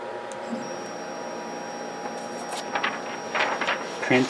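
A Kelant Combat S500 resin 3D printer runs with a steady, quiet mechanical hum and a faint high tone, and a few soft clicks and clunks grow busier toward the end.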